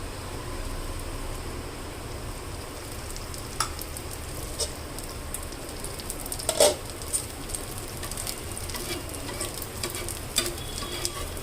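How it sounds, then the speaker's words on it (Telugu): Jowar flour dosa cooking in ghee on a pan gives a continuous, even sizzle with a soft crackling patter, a few sharper pops and scrapes standing out near the middle; no voices. "నేను నెయ్యి వేసి పోస్తా దోశ నెయ్యితో మంచి టేస్ట్ వస్తాయి జొన్న దోశ"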